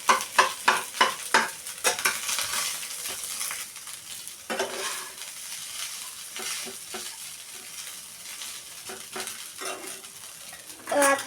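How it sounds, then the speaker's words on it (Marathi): A spoon stirs and turns cooked rice in a pan while making lemon rice, giving a run of quick, close scraping and rustling strokes at the start, then softer intermittent stirring and light clinks. "तर ह्याला थोडं असं हलवून घ्यायचं."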